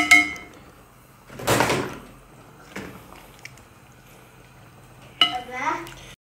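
Rice is tipped into a pot of cooked chicken for Bukhari rice, a brief rushing pour followed by a metal clang and soft clatter. Another burst of stirring and clinking comes later, with a faint voice near the end.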